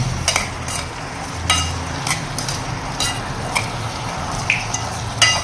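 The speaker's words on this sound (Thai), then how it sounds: "แล้วก็ผัดให้เข้ากัน" Ingredients stir-fried in a pan: a steady close sizzle under repeated sharp clinks and scrapes of a spatula against the pan, no voices.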